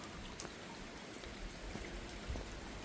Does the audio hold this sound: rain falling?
yes